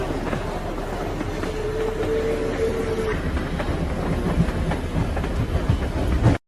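A train rolls along railway tracks as a steady, dense rumble with faint clickety-clack and a brief tonal squeal midway, continuous and fairly loud until it cuts off abruptly.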